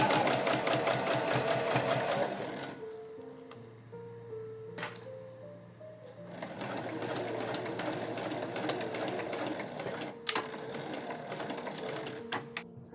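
A sewing machine stitches along the edge of a fabric pouch, giving close rapid mechanical chattering in bursts that pause and then start again, with a few clicks between runs.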